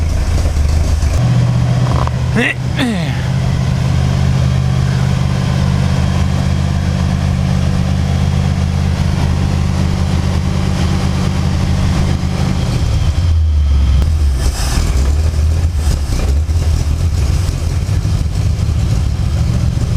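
A car engine in a Crown Vic F100 build runs loud and steady with a deep low rumble, then shifts pitch around two-thirds of the way through as it climbs to higher revs, with no talk over it.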